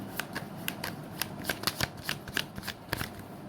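Tarot cards being shuffled and drawn by hand at close range, giving a quick series of crisp riffling flicks and soft slaps in an irregular rhythm, with no talking.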